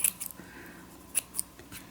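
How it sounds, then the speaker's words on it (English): Scissors snip vintage dotted Swiss paper for a retro journal in a few quick, light cuts, faint and close in an otherwise quiet room. "I will just cut this in kind of randomness."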